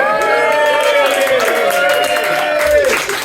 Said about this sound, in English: Claps, all the claps for me